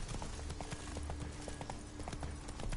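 Roach, the horse in The Witcher 3, clip-clops steadily at a brisk walking rhythm, the hoofbeats close and even over a low ambient hum.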